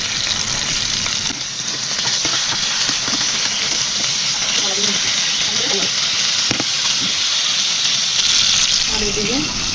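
Fish frying in hot oil in a pan gives a steady, close hiss and sizzle for the whole stretch, with a few faint voices and kitchen sounds underneath.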